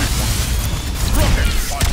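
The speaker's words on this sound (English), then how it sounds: "Meteor strike!" Doomfist's Meteor Strike ability from Overwatch, in the Cursed Warrior skin, lands as a loud, dense rumbling crash with mechanical grinding and whooshing texture that sustains for about two seconds.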